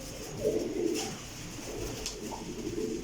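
Teddy pigeons coo softly in low, throaty bursts, a couple of rolling calls at moderate distance over a quiet background hum.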